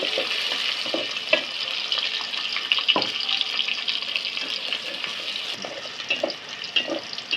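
Thick-cut onions fry in hot oil in a Bengali kitchen cooking goat head curry, a steady close sizzle broken by scraping stirs at irregular intervals, with no talk.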